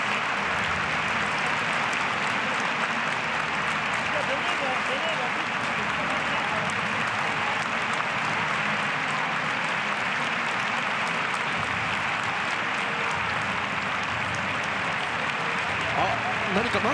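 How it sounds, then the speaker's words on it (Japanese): A large stadium crowd at a football match applauds a retiring referee in one long, unbroken roar of clapping that stays dense and loud throughout, with crowd voices blended into the mass. "大きな拍手で送られます。"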